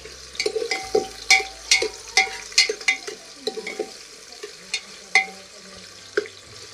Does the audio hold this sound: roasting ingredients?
yes